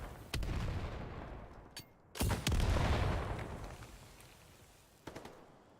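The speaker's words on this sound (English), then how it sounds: "A lot of nades being thrown, but no tags just yet." Grenades explode during a competitive video game match on the Manorhouse map: several heavy booms with long rumbling decays, irregularly spaced and fairly distant-sounding, with no talk over them.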